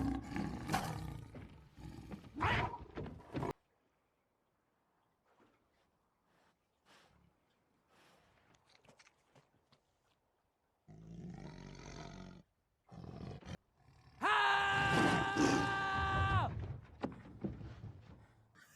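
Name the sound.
tiger roaring, from Life of Pi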